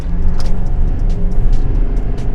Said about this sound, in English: Stock, wide open throttle pull.